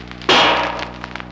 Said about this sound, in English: that's how an uninsulated panel sounds when hit with a mallet.